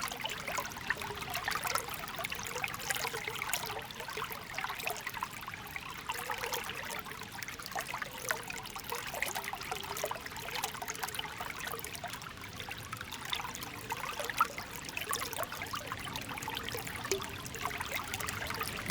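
River water flows in a steady, even rush with a bright trickling texture, continuous and moderately close throughout, with no voices.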